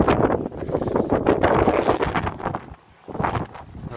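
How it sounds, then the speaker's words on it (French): Gusts of wind buffet the microphone with heavy, rumbling blasts that briefly ease around the middle before returning, close and loud, with no talking. "Là, il y a un peu de vent. Je vais me couvrir du vent parce que le son,"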